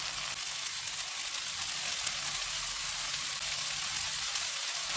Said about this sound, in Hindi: इनको भी 2 से 3 मिनट तक भूनेंगे